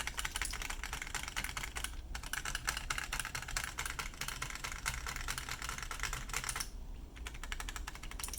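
Rapid clacking keystrokes on a 3D printed macro pad fitted with 3D printed magnetic switches, a close, steady flurry of sharp solid whacks with two brief pauses, no voices.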